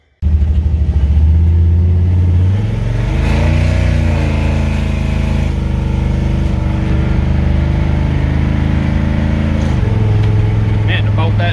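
A carbureted car engine revs loudly and close by as the car pulls away, its rising and falling drone steady through the whole stretch, with a brief voice in the background.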